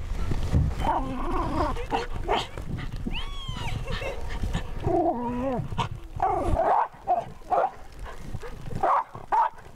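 A dog barks and whimpers nearby in snowy winter conditions at Arthurs Pass, New Zealand, mixing short yelps with higher whining cries over a rumbling background.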